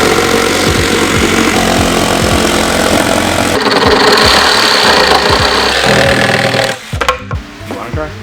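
A reciprocating saw (Sawzall) chatters loud and close as it rips through scrap wood, a fast rough buzzing stroke that runs continuously for several seconds before stopping, with a brief voice near the end.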